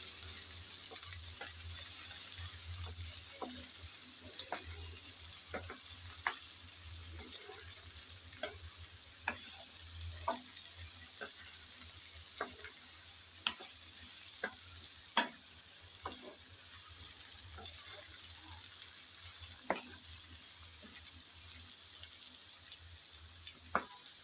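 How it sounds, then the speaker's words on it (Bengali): Eggplant frying with potato and carrot in a pan, a soft continuous sizzle broken by regular light clicks of a spoon stirring, close but fairly quiet. "এখন আমি নেড়েচেড়ে আলু আর গাজরের সাথে বেগুন 2-1 মিনিট ভেজে নেব"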